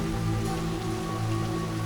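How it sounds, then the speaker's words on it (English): Rain falls steadily on a boggy golf course in Phuket, Thailand, a continuous close patter spread evenly across the short stretch with no voices. "It's raining, the fairways are boggy."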